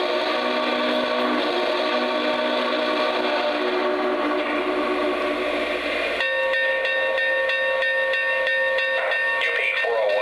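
Lionel Legacy Union Pacific Big Boy 4014 model train running, a continuous loud rumble with tonal whistle-like hums and steam chuff, changing character partway through as it keeps going.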